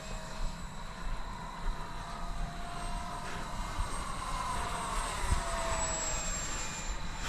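RC T-7A jet model with an 80mm electric ducted fan flying with forward thrust, a steady distant whine with faint tonal hum over continuous outdoor wind noise.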